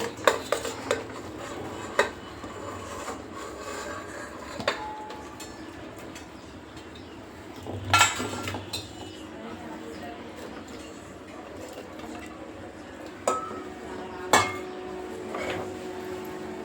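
Soaked, washed lentils going into a pressure cooker for hotel-style sambar, with light clinks of a steel vessel and spoon scattered through a quiet kitchen room tone, a few sharper clatters standing out.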